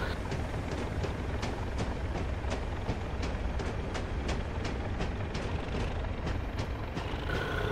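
Locomotive hauling mineral wagons in a train simulator game, a steady rumbling roll with regular rhythmic clicks of wheels over rail joints throughout, fairly loud and continuous.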